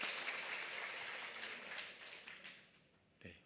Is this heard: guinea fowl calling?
no